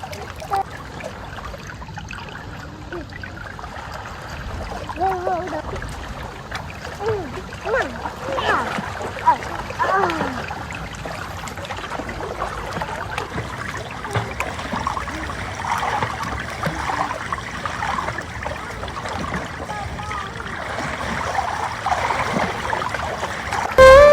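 Water splashes and laps in a swimming pool at a beach resort in Mauritius, a continuous soft sloshing that runs throughout, with people talking and calling out over it.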